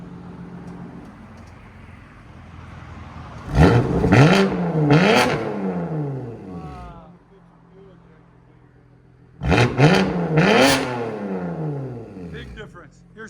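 A 2019 BMW M2 Competition with a 3.0L twin-turbo inline-six and its exhaust valve open revs hard twice, each a loud close roaring blip that rises and falls, with a quieter idle rumble between.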